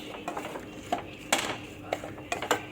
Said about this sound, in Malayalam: ചപ്പാത്തി ചേർത്ത് കൊടുത്തിട്ട് മസാലയുമായിട്ട് നന്നായിട്ട് മിക്സ് ചെയ്യുക